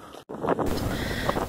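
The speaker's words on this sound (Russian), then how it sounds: "несмотря на сильный ветер" Strong coastal wind buffets the microphone in a loud, rough roar after a brief dropout, steady and close.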